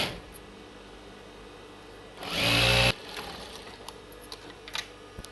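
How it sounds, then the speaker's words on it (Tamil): A sewing machine stitches the kaja patti band of a child's silk dress in a single short, loud whirring burst lasting under a second, set against quiet room noise and a few faint clicks afterward. "இப்போ நம்ம காஜா பட்டி தைக்கலாம்."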